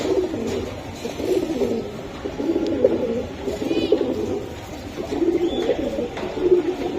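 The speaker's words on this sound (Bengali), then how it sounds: "কালারফুল আর একটা কবুতর, খাকি গররা ভাই" Pigeons, including a khaki gorra breed offered among racing giribaz pigeons, coo in low repeated throaty phrases close by, with a steady flutter of more cooing in the background and a few brief higher chirps.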